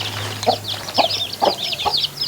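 Chickens cluck at a home yard, with a single hen among them: short clucks come in four evenly spaced bursts, close and fairly loud, over a busy chatter of higher chirps and a low steady hum.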